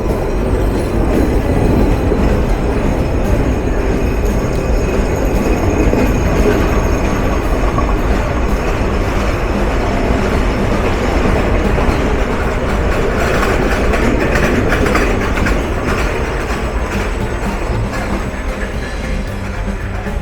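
Rupsha Express passenger train running between Chilahati and Saidpur in Bangladesh, heard as a loud, steady rumble of wheels on rails with continuous carriage rattle and no pause throughout.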